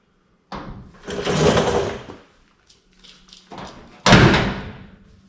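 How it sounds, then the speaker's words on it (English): Door on a Chevrolet Suburban being loosened and shifted to adjust its gap: two loud bursts of clunking, rattling metal nearby, separated by quieter knocks and scraping. "I'm gonna go ahead and pop this loose so I can bring that door a little closer"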